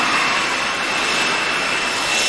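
A small jet turbine from Wren Turbines, fitted to a skateboard and tested at a Yorkshire factory, gives a loud, steady roaring whine that holds constant throughout, close by, with no voices.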